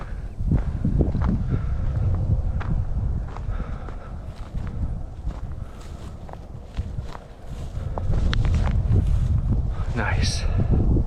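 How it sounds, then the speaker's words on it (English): A steady, blustery wind rumbles across the microphone on a winter mountain trail along the Appalachian Trail, mixed with crunching footsteps and brief talk. "A little breezy up here, but not too bad."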